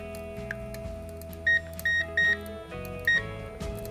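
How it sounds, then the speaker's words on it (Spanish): An infrared thermometer sounds its high-temperature alarm while measuring a charcoal-filled fireplace, giving several short, clear electronic beeps in an uneven pattern over a steady background hum. "Eso es alarma de alta temperatura."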